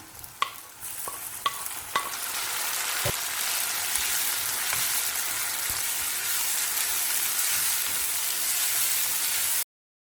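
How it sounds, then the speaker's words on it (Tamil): Tomato and onions being sautéed in a pan for Chettinad chicken white kurma, with a few sharp spoon clinks at the start that give way to a loud, steady sizzle and frying hiss, close up, then an abrupt stop. "ஒரு தக்காளி சேர்த்து வதக்கலாம்."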